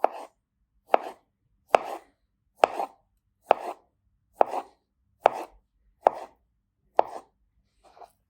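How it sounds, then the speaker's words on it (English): Knife cuts cleanly through cooled boiled potatoes, slicing them thinly one at a time: ten crisp, evenly spaced chops about a second apart, each a short sharp tap against the board, close and alone with no talk. "I'm going to take them one at a time now, and I'm going to slice them fairly thinly"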